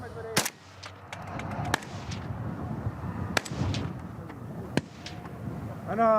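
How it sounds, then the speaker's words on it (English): Gunshots ring out during army weapons training near Mosul, several sharp cracks spaced a second or two apart over a noisy outdoor background, with voices talking between shots. "Shoot 3 times standing here, then you kneel and you shoot."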